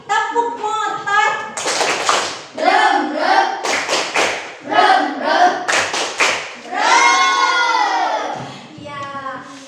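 A classroom of pupils and their teacher do the rhythmic tepuk motor clapping game, with chanting voices and sharp, patterned claps breaking in at intervals.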